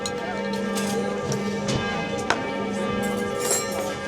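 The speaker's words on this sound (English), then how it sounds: "You can probably hear the bells ringing in the background." Church bells ringing in the distance in Paris, a steady ringing tone under a busy restaurant background with occasional clinks and taps.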